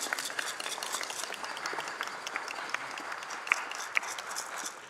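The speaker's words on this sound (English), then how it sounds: "Let's give them a round of applause." Applause from a crowd at a city council meeting, steady dense clapping lasting several seconds with a couple of sharper claps near the end, moderately distant.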